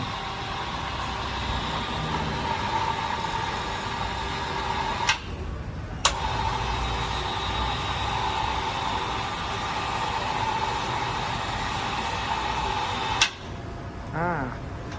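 A 1000 kg electric hoist crane with a 30-metre sling runs steadily up and down, giving a constant motor whine and hum broken by a few sharp clicks from the control switch.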